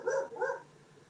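A dog barks twice in quick succession, fairly close and moderately loud, with the barks fading into quiet afterward.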